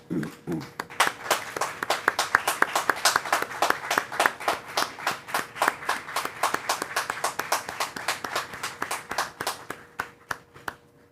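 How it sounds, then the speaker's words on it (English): Audience at a university commencement ceremony giving a sustained round of applause, steady clapping from many hands in a large hall that thins into scattered claps toward the end. "Please join me by standing and giving all of our graduands a round of applause."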